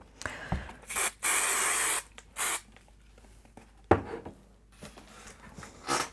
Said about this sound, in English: So excuse me while I just spray this.